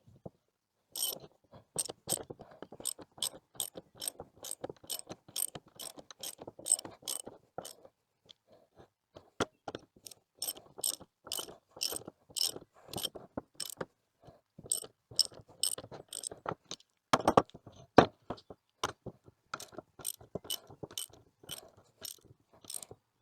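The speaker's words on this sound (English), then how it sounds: "It's your 3/4 inch socket to tighten these down" A ratchet with a 3/4 inch socket tightens bolts while a Texas Star steel target is assembled, making rapid close clicking bursts in repeated runs with brief pauses between strokes and one louder clunk near the end, no voices.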